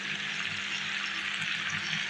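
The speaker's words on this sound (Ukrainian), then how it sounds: "Тепер додаю заливку до нашої риби" Steady sizzling and bubbling as tomato sauce is poured over fried hake in a hot frying pan, a continuous wet frying hiss with no talking.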